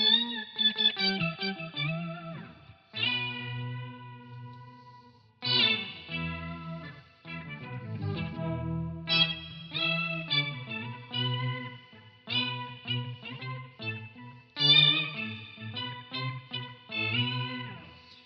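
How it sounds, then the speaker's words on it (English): A guitar pedalboard with chorus and filter effects gives organ-like tones, heard as a series of sustained, modulated chords and swells that start and stop in separate phrases and ring out alone at moderate loudness. "there's some organ sounds."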